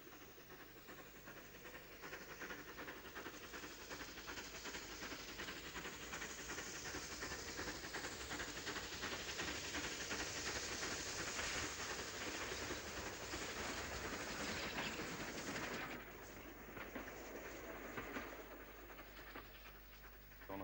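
A Southern Region train rolls past in a steady, loud rush of wheels and hissing, holding for about fifteen seconds before the roar drops off and continues more quietly.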